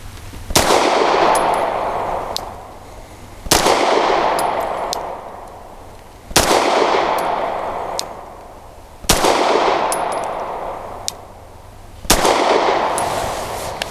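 A Wilson Combat SFT9 pistol fires 124 grain full metal jacket rounds at a target seven yards away: five loud, sharp shots spaced about three seconds apart, each followed by a ringing decay.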